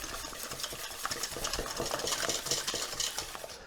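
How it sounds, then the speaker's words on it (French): Eggs and sugar are whisked together in a bowl for an apple pound cake, a quick, continuous rhythmic scraping and clinking of the whisk against the bowl, close and fairly quiet. "c'est toujours mélanger les œufs avec le sucre pour pas cuire les œufs"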